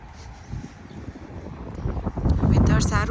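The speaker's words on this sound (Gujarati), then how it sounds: "વેધર સારું છે પણ પવન છે બહુ" Strong gusty wind blows outdoors while walking to the gym on a cold Canadian day. It is a low, rumbling buffet against the microphone that builds louder toward the end, with a brief voice faintly heard at the close.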